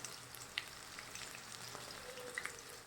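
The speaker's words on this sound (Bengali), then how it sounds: "চিলি চিকেনের জন্য আমি পকোড়াগুলো ভাজতে দিয়ে দিয়েছি" Chicken pakoras for chilli chicken deep-fry in hot oil with a quiet, continuous bubbling crackle, marked by a couple of faint metallic clinks.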